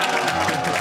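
Studio crowd at a Spring 2022 LEC semifinal, G2 Esports versus Fnatic, raising a brief dense cheer for G2 that fills the whole moment without any talk over it.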